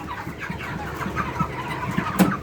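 A broiler chicken clucking close by in short irregular bursts over background rustle, with a sharper squawk near the end.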